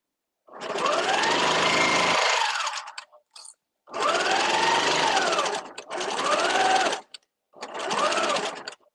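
Sewing machine stitching the corner of a fabric thread catcher, four loud close bursts of rapid mechanical whirring and needle chatter separated by short pauses, one burst slowing as it tails off.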